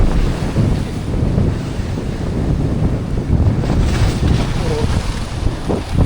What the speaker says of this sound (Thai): น้ำทะเลซัดแรงมาก